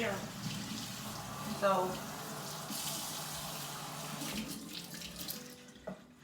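Tap water runs steadily into a sink while a pan is washed, with the flow continuing throughout and a voice speaking briefly over it near the start.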